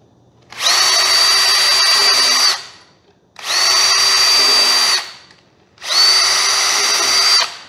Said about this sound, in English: we have our pilot holes drilled